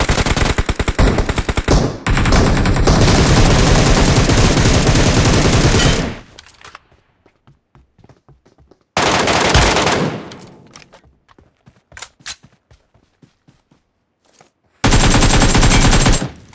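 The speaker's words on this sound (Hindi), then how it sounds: "4x लगा के M4 पे मैंने कितनी ज्यादा दूर से एनिमी को नॉक कर लिया था" An M4 assault rifle fires in the mobile shooter game PUBG/BGMI, played on an iPhone XS: long loud bursts of rapid automatic gunfire separated by quieter stretches of scattered shots and footsteps.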